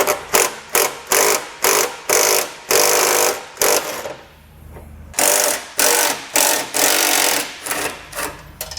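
A 10mm socket tool spins a nut off the bumper beam of a 2012 car, giving a rapid run of loud, evenly spaced mechanical bursts with a short pause midway.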